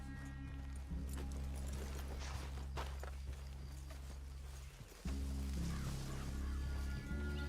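Horse hooves clop faintly at a walking pace in the video game Red Dead Redemption 2, partly buried under a loud, steady droning background.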